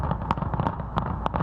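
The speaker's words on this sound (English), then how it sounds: "the traditional July 4th fireworks spectacular blazed across the sky" Traditional July 4th fireworks display over the National Mall, heard as a steady roar of crackling bursts with several sharper pops standing out, loud and continuous throughout.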